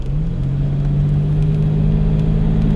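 A 1972 Jaguar E-Type V12 coupé with a 5.3-litre V12 and three-speed automatic climbs a steep hill, its engine giving a steady, close, loud low drone with no talk over it.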